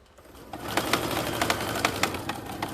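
A sewing machine stitches through a pillow at a steady fast pace, with a rapid mechanical whir and regular clicking needle strokes, close and unbroken.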